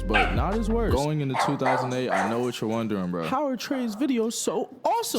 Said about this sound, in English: Sorry for the barking dog, by the way.